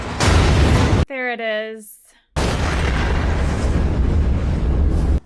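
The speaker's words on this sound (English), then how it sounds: "Explosion." A loud, sustained explosion roars in the reactor scene of the Chernobyl TV series, a heavy rumbling blast that is briefly interrupted by a short spoken line before the roar resumes and continues to the end.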